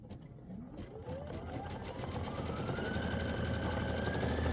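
A sewing machine stitches a quilt block with a fast, even mechanical whirring and rapid needle ticking, close and steady, its pitch rising as the motor speeds up.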